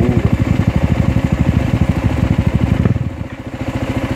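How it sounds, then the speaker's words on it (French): A motorcycle engine with the spark arrestor removed from its muffler idles close by with a loud, rapid, throaty pulsing, then changes pitch briefly before settling back into a steady lumpy beat. "j'ai enlevé le Spark Arrestor du muffler. Oups. Fait que là, elle a un méchant beau son digne."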